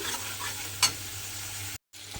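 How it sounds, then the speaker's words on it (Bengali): Spices fry with chili powder in a pan for a taro curry, making a low steady sizzle with light stirring and one brief clink before a short gap of silence. "এবার সমস্ত মশলা দিয়ে খুব ভালোভাবে আরও কষিয়ে নিতে হবে।"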